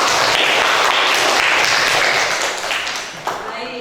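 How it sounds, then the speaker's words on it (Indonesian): A class claps for a student named Dea after her talk, a dense, fairly loud wash of hands that eases slightly toward the end. "beri tepuk tangan dulu dong untuk Dea"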